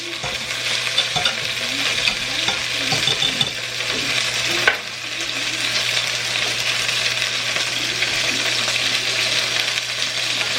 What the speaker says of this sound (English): You can see the sauce is starting to bubble.